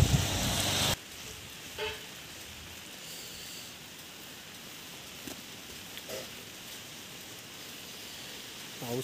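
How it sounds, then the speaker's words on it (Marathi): Heavy rain near the Dimbhe dam pours down as a dense, steady hiss, loudest in the first second and then a softer continuous wash, with a few faint knocks and no voices. "पाऊस खूप आहे, खूप पाऊस आहे,"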